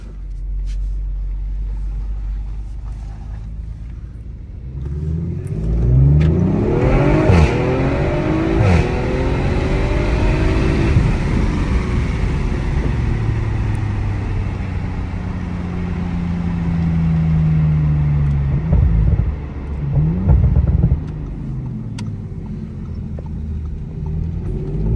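A 500+ horsepower Audi RS5 heard from inside the cabin, driven along forest roads: a loud engine revs up through several rising gear pulls, backs off, and then accelerates again, with a deep rumble throughout and no talking.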